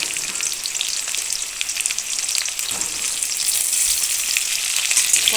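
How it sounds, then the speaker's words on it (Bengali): Pointed gourd (potol) fries in hot oil, a loud, constant sizzle with crackling that grows slightly stronger toward the end. "এবার একে একে পটলগুলো দিয়ে দেবো। পটলগুলোকে ভালো করে ভেজে নেব।"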